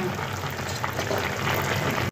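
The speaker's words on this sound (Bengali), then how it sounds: "এই যে 5 মেশালি সবজি এখন সিদ্ধ করা হচ্ছে" A pot of mixed vegetables at a steady boil, a close, continuous bubbling hiss and crackle with no break, ending abruptly.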